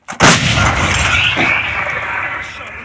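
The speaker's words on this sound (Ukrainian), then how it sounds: "ми перший раз зробили постріл із пушки гаубиці Д-20. Гармата! Постріл!" A single heavy blast from a D-20 howitzer, sharp and loud at the start, followed by a long rumbling reverberation that rolls on and slowly fades.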